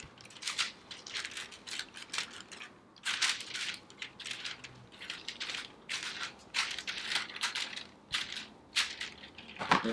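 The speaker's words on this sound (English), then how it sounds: "So just get some scissors and trim it up." Scissors snipping through wet palette paper, a run of quick crisp cuts and crunchy rustles in an irregular rhythm, close and fairly quiet with no talk.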